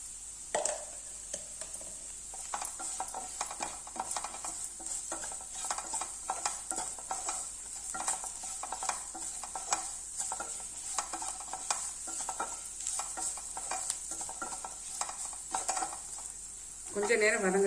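Stirring and sautéing in a pan with a steady soft sizzle, scraping spoon strokes recurring throughout at close range, while rice is prepared for a quick tiffin box meal.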